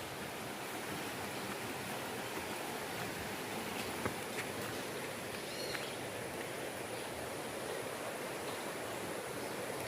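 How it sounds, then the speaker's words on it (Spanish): Flowing water at the Copalita waterfalls near San Miguel del Puerto, Oaxaca, a faint, steady rushing hiss with a few light chirps above it. "Solamente escuchamos el canto de los pájaros y el sonido del agua"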